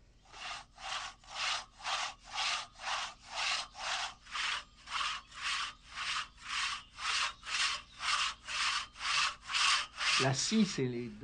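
A hand saw rasps through a tree trunk in a steady back-and-forth rhythm, about twenty even strokes, close and loud, ending with a brief creak.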